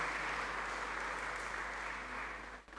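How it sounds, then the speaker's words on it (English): Brief applause from an audience at an alumni lecture, a steady, fairly distant wash of clapping over a low hum that thins out at the end. "Please, another round of applause for him as we appreciate him for this presentation."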